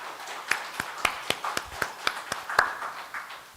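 Sparse clapping from a church congregation at a Sunday afternoon service, a handful of distinct, fairly loud claps in an irregular rhythm with quiet gaps between them, no voices.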